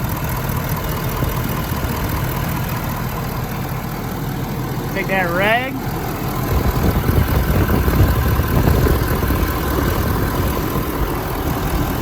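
A 2017 Ford F250 engine idles steadily right after a fuel filter change, a constant low rumble running throughout with a voice speaking over it.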